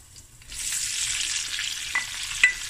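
Onions go into a pan of hot oil and cumin seeds, setting off a loud, steady frying sizzle with light stirring and a few small crackles.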